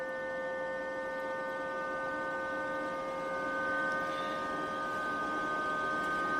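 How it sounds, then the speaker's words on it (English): Cooling fan of a Rilon MIG 135E welder running as a steady electrical hum with several sustained tonal whines, constant and close, with no other sounds. "the fan just now kicked on"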